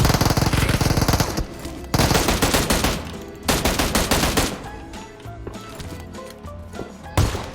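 Rapid bursts of video game gunfire with shotgun blasts, loud and dense in clusters separated by brief lulls, with faint voices underneath.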